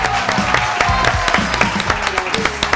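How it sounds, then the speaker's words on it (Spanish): Studio audience applause on a Spanish TV variety show, dense clapping with sharp individual claps standing out, loud and close, with a host's voice and music faintly underneath. "un aplauso"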